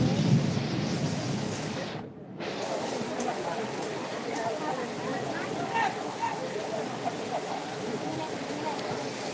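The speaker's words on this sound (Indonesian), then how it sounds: "Hujan semakin lebat dan juga petir gemuruh bersahutan." Heavy rain pours over an outdoor football match in a thunderstorm, a dense steady roar with a rumble of thunder. A commentator talks over it.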